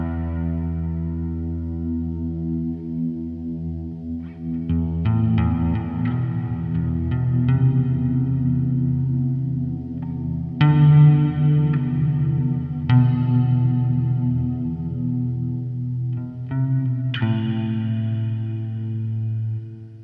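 Reverb-soaked tones from a Meris Mercury X pedal ring out as sustained, layered chords with long shimmering tails, new notes struck every few seconds over a continuous wash, fairly loud and with no talking.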